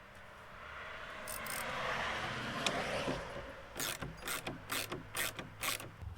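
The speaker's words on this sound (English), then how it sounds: "but I'm going to finish them with a ratchet." A hand gear ratchet tightens fasteners on a gate built from a six-foot fence panel, giving a run of quick, crisp clicking strokes in a steady rhythm after a softer rustling stretch, close and fairly quiet.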